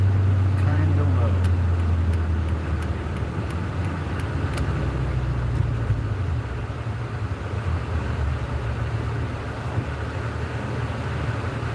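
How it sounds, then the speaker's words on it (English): A 2015 Jeep Wrangler's engine drones in a low, steady rumble while driving, with road noise and a faint murmur of voices in the background. "It's a Jeep Wrangler 2015."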